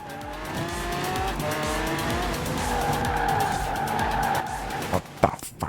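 A car skids and slides on a wintry course in the racing game Forza Horizon 4, with sustained tire squeal over a steady engine drone and a few sharp knocks near the end.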